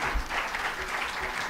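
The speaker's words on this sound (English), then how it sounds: "A big round of applause for them." Brief, fairly quiet applause from an audience at a student and teacher performance event honouring scholarship winners, steady clapping throughout with no talking.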